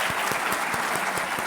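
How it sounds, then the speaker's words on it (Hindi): Loud, dense applause from a large audience at an education summit, a continuous wash of many hands clapping close and steady. "सबसे पहले मैं चाहूँगी आप सभी अपने अपने लिए ज़ोरदार तालियां ज़रूर बजा दीजिए।"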